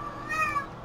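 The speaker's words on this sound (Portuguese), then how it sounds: "aqui na casa do meu irmão tem gatos, que eu amo, e duas delas estão se estranhando aqui" Two house cats squabbling at home, giving a single short, drawn-out meow that rises and falls, fairly faint against quiet room tone.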